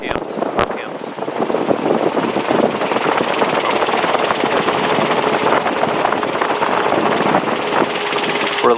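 A Robinson R22 helicopter in flight during a training lesson drones with a steady, loud engine and rotor noise throughout, and a voice talks over it.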